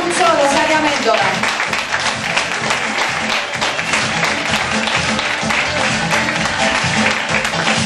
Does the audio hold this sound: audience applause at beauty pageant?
yes